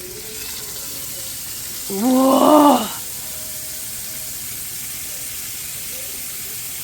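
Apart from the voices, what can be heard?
food sizzling in a cast iron pan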